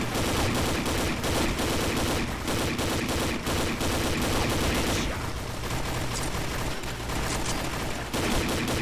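Dense, continuous gunfire from the online shooter Combat Arms on a Cabin Fever match, rapid automatic bursts layered with single shots, loud and close throughout with a brief thinning midway.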